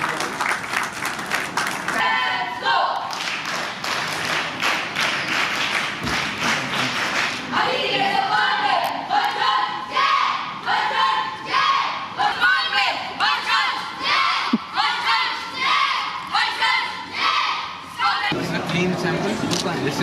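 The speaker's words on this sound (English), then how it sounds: "a huge round of applause, everyone" An audience at a CBSE regional science exhibition cheers and claps for about twenty seconds in a loud, dense, continuous roar, with shouting voices mixed into the clapping throughout.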